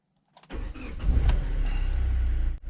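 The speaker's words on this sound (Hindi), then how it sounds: "एक बार स्टार्ट कर लेता हूं गाड़ी को," Hyundai car engine cranked with the clutch pressed, a brief starter whir that catches and settles into a loud, steady idle close by.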